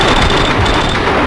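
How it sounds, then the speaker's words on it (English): Loud, dense gunfire in the Max Payne 2 video game, a rapid burst of close shots blending into one continuous fusillade over the short moment. "Someone must have heard the gunfire."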